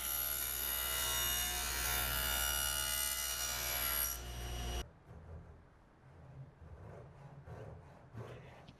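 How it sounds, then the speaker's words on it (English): Router cutting a stopped rabbet in plywood table legs, a loud, steady high whine with rough grinding texture for about four seconds, then an abrupt stop followed by quieter shuffling and handling noises. "used that as a stable platform to ride the router against"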